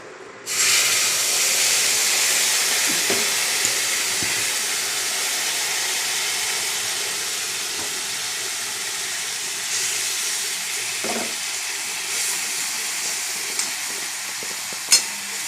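Mustard paste with turmeric and chili powder frying in hot oil gives a steady, loud sizzle and hiss that starts abruptly and runs throughout, with occasional faint stirring clicks and no talking.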